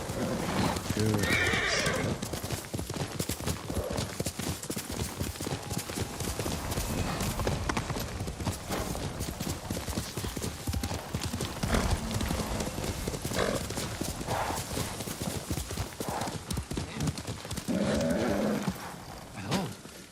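A horse in the video game Ghost of Tsushima gallops with rapid hoofbeats and whinnies several times, loud and close amid game sound effects.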